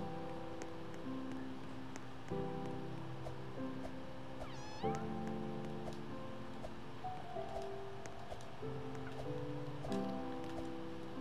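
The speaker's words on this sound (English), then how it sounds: "Is it just me if I'm hearing like meowing?" A cat meows repeatedly inside a Roblox game, with short mewing calls scattered over a steady, layered backdrop of game music and ambience, and no talking.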